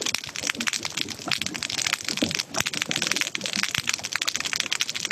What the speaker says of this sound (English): we had guesses come in for snapping shrimp